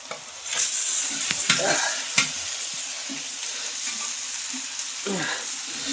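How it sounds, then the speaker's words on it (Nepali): Gundruk and meat sizzle steadily in hot oil in a pan, with scraping stirring strokes cutting through the constant frying hiss. "मासुलाई यसरी हामी चलाएर मस्तसँग हामी एकछिन यसलाई हामी तेलमै फ्राई गर्छौँ"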